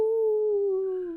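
A single wolf howl, one long, clear, sustained tone that slowly slides downward and fades, heard close and alone.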